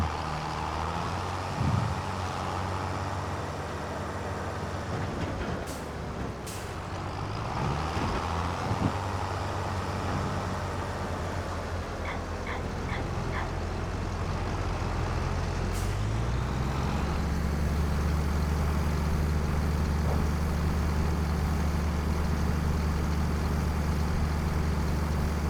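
A truck pulling a grain trailer on a farm during harvest, its diesel engine rumbling close by, with sharp hissing bursts of air brakes and a rising engine drone as it moves off.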